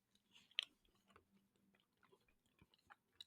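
Crunchy bites into a cookies-and-cream Quest protein bar coated with an imitation Oreo cookie layer, a sharp crunch near the start followed by softer, irregular chewing close to the mic.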